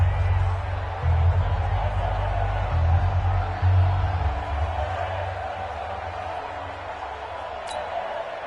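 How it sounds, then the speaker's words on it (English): Crowd noise in an American football video game stadium swells ahead of a big third down, a steady roar of cheering and babble with a louder surge in the first few seconds and no speech. "the crowd getting into it as we come up on a big 3rd down"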